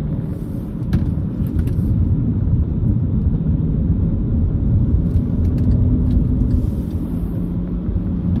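Inside a 2010 Skoda Yeti 1.2 TSI S cruising on the motorway, a steady low engine and road rumble fills the cabin. It holds at an even level throughout, broken only by a few faint ticks, with no talk.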